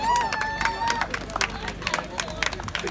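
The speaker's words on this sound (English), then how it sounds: "Big cheer for Tyler." Crowd cheering and clapping for an off-road RC car racer at a 2WD Schumacher race meeting, a steady, busy roar of voices with scattered claps and a whistle-like tone early on.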